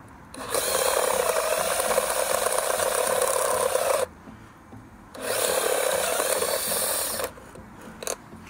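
Power drill boring through the original towbar electrical socket mount on an MG ZS 180, two sustained close-up grinding bursts of several seconds each separated by a brief pause, ending with a few short taps.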